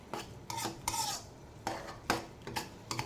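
A utensil stirs a tuna and egg stir fry in a pan, making several distinct scraping, clinking strokes in an uneven rhythm with faint sizzling underneath and no voices.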